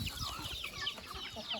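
Country chickens fighting on a farm, with rapid overlapping clucks and squawks, close and fairly loud, continuous scuffling throughout the short burst.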